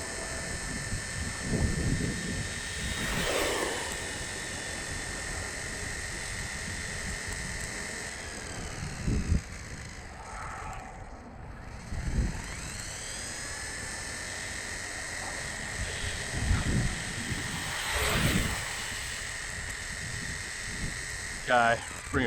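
A WLTOYS 104001 brushless RC car runs at full throttle on a 2S battery with stock gearing, its high motor whine holding steady and swelling loudly as it passes close twice, with voices in the background.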